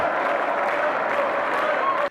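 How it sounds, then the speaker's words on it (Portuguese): Dense, continuous applause rises from people with raised arms inside a church honoring Jango, steady and full before cutting off abruptly at the end. "Dentro da igreja, pessoas com os braços erguidos e aplaudindo exaltam Jango."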